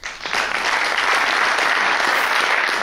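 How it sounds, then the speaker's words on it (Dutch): A hall audience at a Dutch local election debate applauds the SP lead candidate, clapping swelling quickly and holding steady and full for several seconds without speech. "Mag ik een applaus voor de lijsttrekker van de SP"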